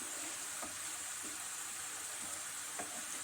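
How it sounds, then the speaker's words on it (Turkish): Carrots and onions fry gently in a pan with a continuous soft sizzle, broken by a few faint stirring scrapes, heard close up with no talking. "Evet böyle biraz ben soğanla kavuruyorum."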